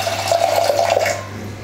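Water pours briefly into a metal pressure cooker with a hollow, rising splash, then trails off into quiet.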